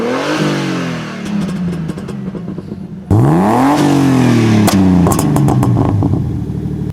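A car engine revs up and down, its exhaust crackling and popping with ignition retarded to minus 19 degrees, the sharp pops scattered over the loud revving close by.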